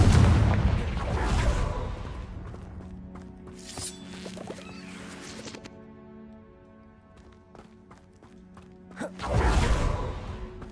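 A Confringo blasting spell in Hogwarts Legacy goes off as a loud, close explosive burst at the start, then a whooshing crackle and sustained ringing hum, ending with another booming blast after a quiet tail.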